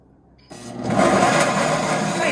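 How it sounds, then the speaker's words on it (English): Starbucks countertop blender starting up after a brief quiet moment, then running steadily as a loud, continuous whirring drone. "Okay, So blender time."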